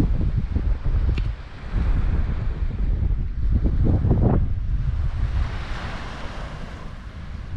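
Wind buffets the microphone at Mikri Viglia Beach on Naxos while waves wash in and break close by in uneven surges, all loud and continuous with no one talking.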